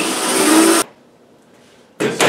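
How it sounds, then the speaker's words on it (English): An inch-and-a-half hole saw cuts holes through the bottom of a redwood planter box, giving a loud, harsh grinding burst, a brief pause, then another short burst. "I'm using an inch and a half hole saw for the bottom holes."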